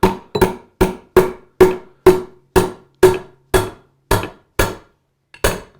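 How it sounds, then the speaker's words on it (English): A hammer taps on the end of a bolt threaded into a John Deere 2240 water pump to break its seal: about a dozen evenly spaced, sharp metallic knocks, close and loud, each with a short ring. "Just tapping on the end of the bolt, and it breaks our seal for us."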